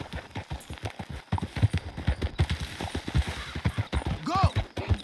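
Horse hooves clip-clopping at a gallop in the video game Red Dead Redemption 2, a loud rapid rhythmic pounding with a brief whinny near the end, accompanied by game audio.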